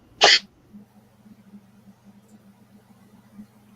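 A single sharp human sneeze, close and loud, bursting out at the start and followed by a quiet low hum.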